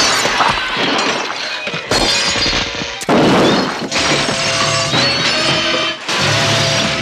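Glass shatters repeatedly in a Friday the 13th sequel as bodies crash through windows, with loud, abrupt bursts of breaking panes in quick succession and splintering, tinkling debris between them.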